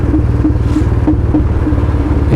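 Royal Enfield Bullet 350 idling through a loud free-flow L-bend exhaust, a very loud, close, deep thumping with a steady, evenly pulsing single-cylinder beat and no speech.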